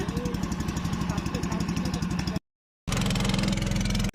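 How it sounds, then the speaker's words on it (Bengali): An engine-powered boat pulls away on the Matamuhuri river through hills. Its motor makes a loud, close, rapidly pulsing chug, briefly cut off by a moment of silence before it resumes. "নৌকা ছেড়ে দিছে।"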